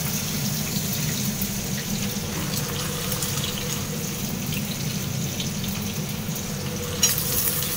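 Chopped onions fry in hot mustard oil with whole garam masala and cumin seeds, a dense, steady sizzle and hiss running throughout, close and fairly loud, with a small clatter near the end.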